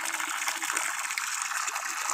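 Water gushing steadily from a new 0.5 hp submersible pump bore well still carrying sand, a loud continuous hissing rush heard close up without a break.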